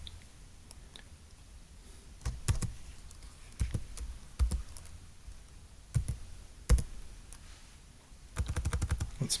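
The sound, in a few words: typing on a computer keyboard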